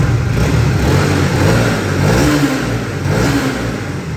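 A 2021 Honda CB125R motorcycle engine runs loud and close, its revs rising and falling in a steady throaty roar.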